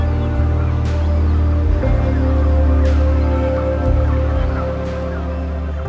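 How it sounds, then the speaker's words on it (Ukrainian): A large flock of waterfowl, geese among them, calls continuously in the floodplain marshes of the Kinburn Peninsula, a dense, overlapping chorus of honks and cackles that stays loud and steady throughout. "Це справжній пташиний базар."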